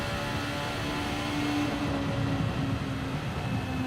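Race cars in the CRC/AutoNation Shoot-Out final roar onto the straightaway, a steady, loud engine drone with a rising tonal whine that holds throughout without a break.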